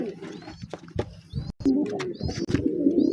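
Domestic pigeons, a nesting pair, cooing softly nearby in repeated low throaty phrases, with a few higher chirps and scattered handling noises and rustles mixed in.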